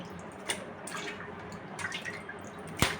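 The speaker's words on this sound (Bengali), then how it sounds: "এবার আমি পানি ঝরিয়ে নেব" Scattered drips and small splashes of water fall at irregular intervals from pangas fish pieces draining in a strainer, close by, with one sharper drop near the end over a faint background hiss.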